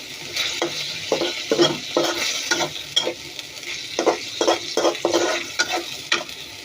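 Carp fish curry with mustard paste, ginger, garlic, onion and tomato stirred and frying in a pan, with repeated scraping stir strokes over a steady close sizzle, no voices.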